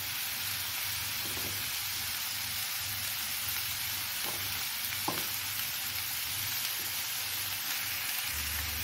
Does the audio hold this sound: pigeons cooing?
no